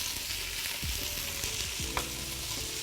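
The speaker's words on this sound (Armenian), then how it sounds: "Մի փոքր այսպես տապակենք" Food sizzles and fries steadily in a pan in a kitchen, with a few scraping stirs of a utensil and no talk.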